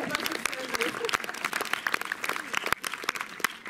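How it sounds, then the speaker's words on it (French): A crowd claps steadily at a cinema screening event, dense applause filling the room while voices talk over it. "Et on peut remercier Claire, la distributrice aussi, qu'on peut applaudir, il n'y a pas de raison."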